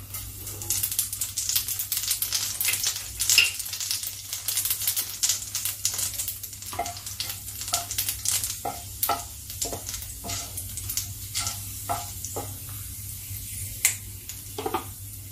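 Dried red chillies and nigella seeds frying in hot oil for a Bengali pumpkin-greens curry, giving a steady close sizzle with scattered crackles and pops throughout, no speech.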